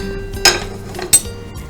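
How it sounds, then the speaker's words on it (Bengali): A frying pan set down for cooking egg prawn biryani, giving two sharp metallic clinks about two-thirds of a second apart, close and fairly loud over a quiet kitchen background. "ফ্রাইং প্যানটা বসিয়ে দিই।"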